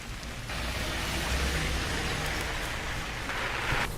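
Heavy rain pours steadily during flooding in Pulwama, Kashmir, a dense continuous hiss of water falling on roads and surfaces, loud and unbroken with no voices.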